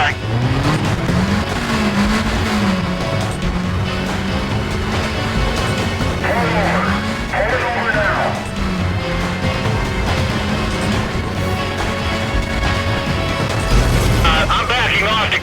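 Police pursuit in Need for Speed: Most Wanted as a suspect's car loses control, engine droning loudly with wavering pitch and squealing tires, a burst of crash-like noise near the end, under continuous radio-style talk.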